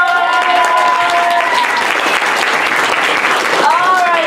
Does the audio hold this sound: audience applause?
yes